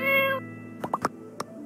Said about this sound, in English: Pinky the cat.